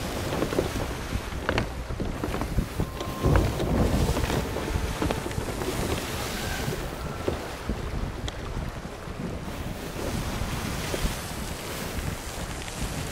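A storm at sea in the pirate game Sea of Thieves: a continuous loud roar of wind and rain around a sailing ship, with occasional low thunder rumbles, steady throughout and without voices.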